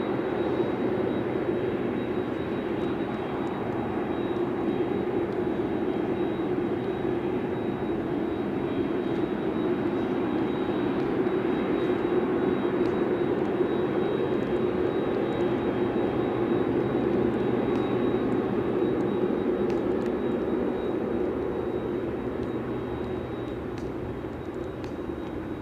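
A Qatar Airways jet lining up on the runway at Brisbane Airport produces a steady, distant engine drone that holds evenly throughout, with no talk.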